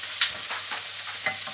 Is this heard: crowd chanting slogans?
no